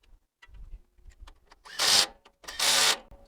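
Bolts are fitted and driven into a new starter on a Briggs & Stratton twin engine in a Murray mower, with light clicks and handling taps followed by two loud, rough ratcheting bursts of tightening up close.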